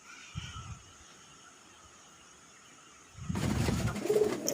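A pigeon coos briefly, then louder cooing and fluttering rise near the end against a quiet background.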